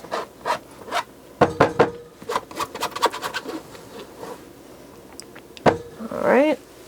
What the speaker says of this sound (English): Then I like to scrape the jar just to make sure it's clean as much as possible.